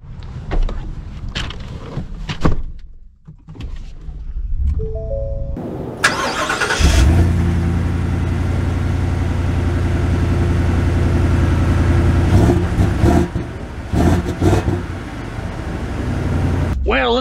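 A 2023 Ford F-350 dually pickup with the 7.3L Godzilla V8 cranks and fires up, then settles into a loud, steady idle and drive-off drone heard from inside the cab, with some talking early on.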